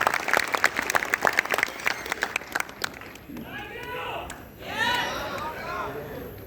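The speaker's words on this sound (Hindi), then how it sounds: "दोनों हाथ हवा में लगा करके तालियां बजाकर स्वागत कीजिए" An audience at a Holi kavi sammelan in Haryana applauds to welcome a poet, dense clapping for about three seconds before it fades into crowd chatter and voices.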